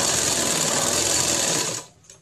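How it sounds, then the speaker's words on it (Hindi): A sewing machine runs steadily, stitching along the edge of a dhoti shalwar, a continuous close whirring that stops abruptly near the end. "इस तरह इसे हम अंदर की तरफ माए को डालते हुए किनारे पर सिलाई कर लेंगे।"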